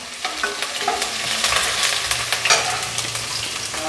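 Green chilli and ginger sizzle in hot tadka oil while being stirred, a loud steady frying hiss with irregular crackles and spoon scrapes up close.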